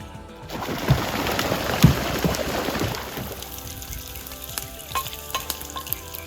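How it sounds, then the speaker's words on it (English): Hot dogs frying in butter in a pan over an open campfire on a canoe trip, a steady close crackling sizzle that fades slightly, with a few faint bird calls in the background. "Hot dogs frying in butter on an open fire."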